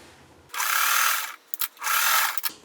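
A sewing machine stitches a quilt block in two steady bursts, each a close, even mechanical whir lasting under a second, separated by a short pause with faint clicks.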